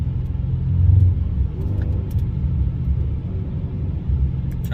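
A CanShift Panther car rolls at speed while the driver downshifts into third, giving a loud, steady low engine rumble and drone heard from inside the car with no talking.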